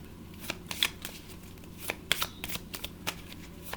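Oracle cards being shuffled by hand, a quick series of soft riffling flutters and light taps, close and fairly quiet over a faint background hum.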